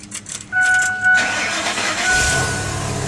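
A truck engine is cranked and catches, turning over briefly before settling into a rumbling idle, close by.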